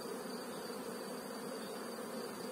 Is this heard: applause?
no